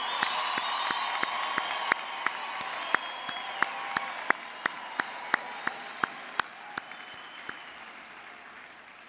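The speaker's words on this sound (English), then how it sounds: "please join me in congratulating this esteemed class of 2023 with your loudest ululation and a resounding round of applause" Loud, dense applause from a crowd at a university graduation ceremony, sustained throughout, with a few sharp whistles and whoops standing out above the steady clapping.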